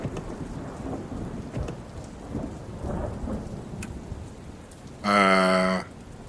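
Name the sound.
rain and thunder in video game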